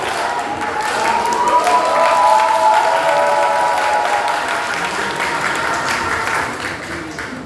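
A crowd at a Korean political party rally applauds steadily for a candidate's speech, with cheering voices swelling in the middle before the clapping gradually tapers off.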